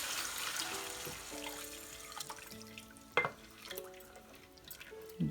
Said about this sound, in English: I'm going to go ahead and add 2 cups of milk.